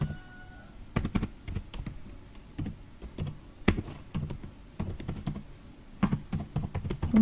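Typing a MySQL command on a computer keyboard: clusters of close, crisp key clicks in irregular bursts with brief pauses, alone with no talk.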